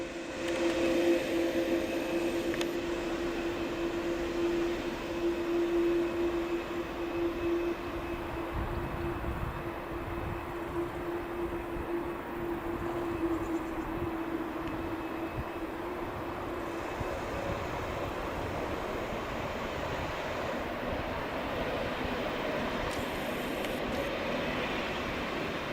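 A Boeing 787-8 Dreamliner of a presidential flight takes off at Geneva airport, a steady broad roar of jet engines with a sustained low hum, continuous and fairly loud throughout.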